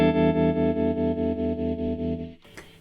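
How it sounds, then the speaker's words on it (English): Electric guitar played through a HeadRush GigBoard with amp-style vibrato, a held distorted chord pulsing rhythmically in volume before cutting off abruptly near the end, loud and alone. "you can hear the vibrato cutting in and out as you would on a real amplifier with vibrato"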